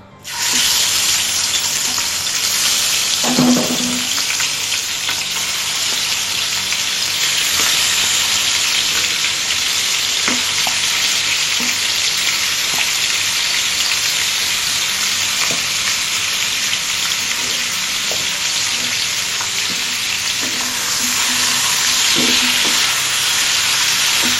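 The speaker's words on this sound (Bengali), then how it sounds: "আমি একটা ফ্রাইং প্যানে তেল গরম করে রেখেছি। এবার এর ভিতরে মাছগুলো দিয়ে ভেজে নেব।" Magur catfish pieces sizzling in hot oil in a frying pan, a loud steady broadband hiss throughout with occasional soft clinks and stirring bumps, no voices.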